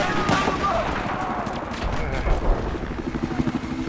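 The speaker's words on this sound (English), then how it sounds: "Scout chopper camping us here." In a Battlefield 4 match, a scout helicopter drones overhead while bursts of gunfire crack and rattle, with voices talking throughout.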